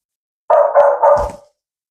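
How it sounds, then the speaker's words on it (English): Three quick, close barks from a dog in rapid succession, then silence. "the dog barked, woof, woof"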